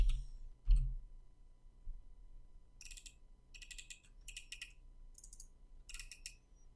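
Typing a command on a computer keyboard, a few separated bursts of quick, light key clicks in a quiet room, with a soft thump near the start.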